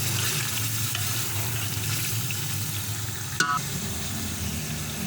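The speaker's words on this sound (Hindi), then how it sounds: "अब ये यखनी डाल दी है मैंने इसमें।" Steady sizzling of mutton frying in a pot for pulao, with a brief sharp pouring splash as strained broth goes in, then the sizzle carries on at a moderate level.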